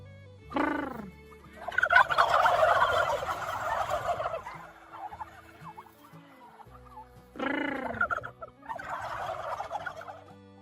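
Turkeys gobble loudly at a Minnesota turkey farm in two bursts, a rapid warbling chorus of several birds that trails into scattered calls before a second round.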